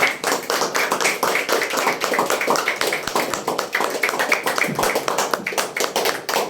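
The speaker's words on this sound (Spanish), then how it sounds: "Creo que el Señor merece hoy un aplauso nuestro." Church congregation standing and applauding together, a dense, steady wash of many hands clapping close and loud throughout, with no voices rising above it.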